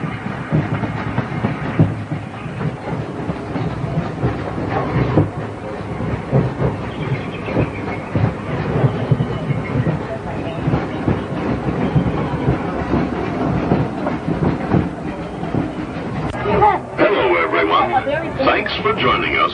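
The Disneyland Railroad train rumbles and clatters steadily along the tracks while people talk over the continuous rolling noise.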